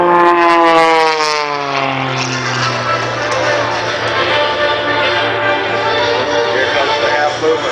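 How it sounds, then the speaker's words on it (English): A propeller aerobatic airplane performs loops and tumbles over an airshow, its engine note sliding downward then droning steadily, loud and continuous, with voices faintly in the background. "The airplane is tumbling off the top."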